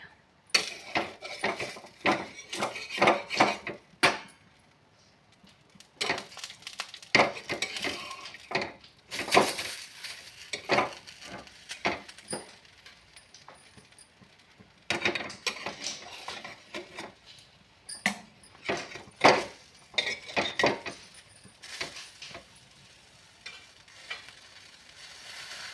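Alu vadi pieces sizzle in a pan as they are flipped, soft frying crackle punctuated by repeated clatters and scrapes of a spatula against the pan, close and irregular.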